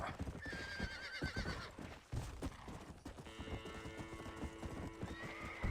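A horse galloping and neighing in the Red Dead video game, with rapid hoof clip-clops throughout and a couple of whinnies over a soft, busy game backdrop.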